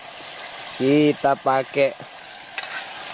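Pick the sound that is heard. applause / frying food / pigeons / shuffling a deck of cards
frying food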